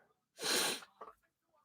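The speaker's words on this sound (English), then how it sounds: "that was a fun sneeze" A single loud, explosive human sneeze bursts out close to the mic, followed by a brief breathy sniff-like sound and quiet afterward, during a sports results broadcast.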